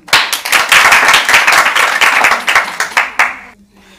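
A school crowd claps together loudly for a few seconds, welcoming a doctor at a college quiz event, the applause trailing off into a few scattered claps before stopping.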